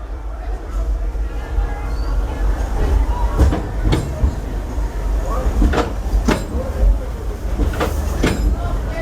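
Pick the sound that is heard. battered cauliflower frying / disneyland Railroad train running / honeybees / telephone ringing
disneyland Railroad train running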